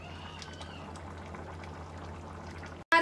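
Rice water simmers and boils off in a pressure cooker while keema tahri cooks, a soft continuous bubbling hiss at low level that runs steadily for nearly three seconds before a brief cut and a sharp noise at the end.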